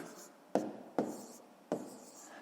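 A pen or pencil scratches out numbers by hand in three or four short, close strokes with brief pauses between them, quiet and alone.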